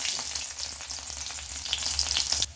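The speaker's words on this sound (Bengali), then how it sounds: "তো এখানে আমি রসুনটা ভেজে নিচ্ছি" Steady, close sizzling of garlic frying in hot oil until browned, a continuous crackle with a few faint stirring clicks, no voices.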